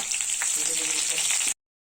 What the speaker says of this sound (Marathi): मी इथे लसूण टाकून घेणार आहे. त्यानंतर चिमूटभर मेथी दाणे टाकून घेते. कढीपत्ता टाकून